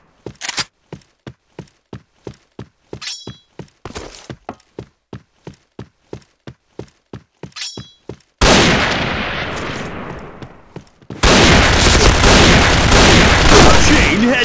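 Gunfire in the shooter game Point Blank: a rapid run of sharp single shots in a steady rhythm, then two loud sustained bursts with booming tails, close and dominant.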